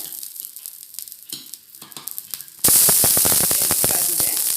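Thick rice dosa batter with onion hits a hot griddle and bursts into a loud, crackling sizzle that starts suddenly after quieter kitchen clatter and stays dense and close.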